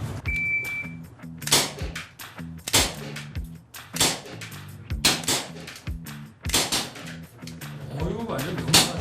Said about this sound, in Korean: 예, 사격 시작합니다.